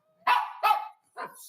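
A pug barks three times in quick succession, sharp and close, with the last bark slightly softer after a brief pause.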